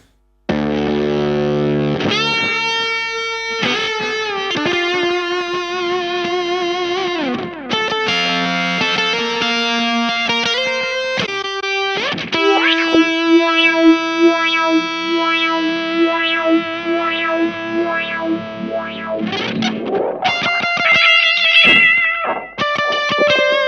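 An electric guitar runs through an IK Multimedia X-Drive distortion effect with echo, giving sustained, gritty, bending notes with repeating delay trails and sweeping pitch, loud and continuous with no voices.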